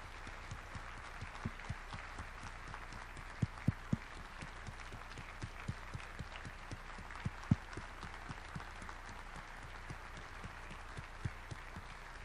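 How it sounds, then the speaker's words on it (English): A banquet crowd applauds the 2011 inductees at the Snohomish County Sports Hall of Fame, a steady, fairly distant wash of clapping sustained for over ten seconds with a few louder claps standing out. "a big round of applause for all of our 2011 inductees"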